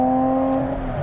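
An Aston Martin Vantage GT12's V12 engine holds a steady, sustained tone, close and loud, with a smooth, tuneful note and no talk over it.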